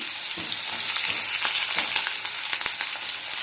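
Chopped onion, green chilli and curry leaves fry in hot oil over spluttered mustard seeds and cumin, a dense steady sizzle with occasional stirring scrapes, close and loud, no voices.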